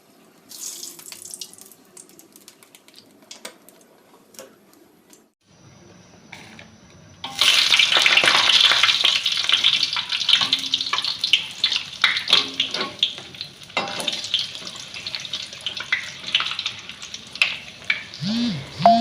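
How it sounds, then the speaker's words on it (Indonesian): Fish crackers (kerupuk ikan) frying in hot oil, a loud, dense sizzle and crackle that starts abruptly partway through after a quieter stretch and continues bubbling strongly to the end. "mau goreng kerupuk. Ini kerupuk ikan."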